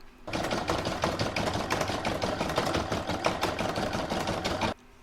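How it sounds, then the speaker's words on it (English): An embroidery machine stitches a stippling pattern in cream thread on light fabric, a fast steady mechanical clatter of rapid needle strokes, close and continuous, that stops abruptly near the end. "So I've loaded a cream thread into my machine, and I'm now going to stitch round number 5"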